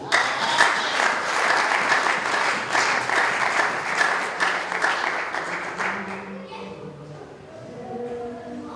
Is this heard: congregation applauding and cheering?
yes